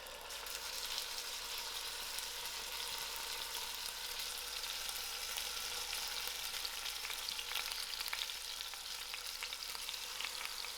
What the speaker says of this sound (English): I am going to allow this to brown up fully on all sides.